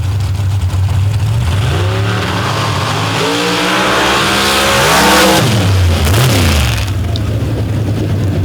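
Outlaw pro stock drag cars, including a Chevy, launch and roar down the strip, a loud sustained engine howl climbing in pitch through gear changes, with an announcer talking over it.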